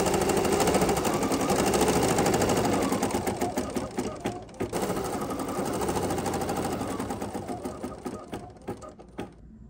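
An embroidery machine sews a placement stitch for a striped appliqué mitten cuff, a loud, steady rapid needle chatter that runs on for several seconds, then slows into separate thumping stitches.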